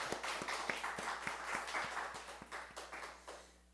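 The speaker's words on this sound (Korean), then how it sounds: "우리 하나님께 영광의 박수 올리겠습니다." Church congregation applauding during a Sunday worship service, a steady patter of many hands clapping with regular sharper claps, moderately loud and fading slightly toward the end.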